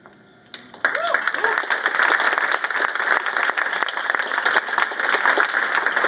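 Gala audience breaking into applause after a brief quiet moment, dense sustained clapping filling the room and holding steady to the end, with some scattered voices and cheers mixed in.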